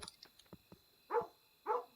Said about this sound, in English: Yep, he's barking.